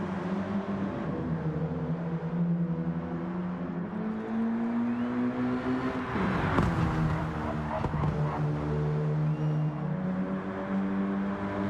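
Race cars, among them a Sirocco, lap a circuit in a racing video game. A steady engine drone with rising and falling pitch runs throughout, and a brief harsher swell near the middle could be tyres on a corner, under faint background noise.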